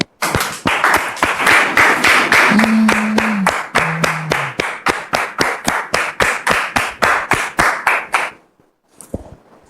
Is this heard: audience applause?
yes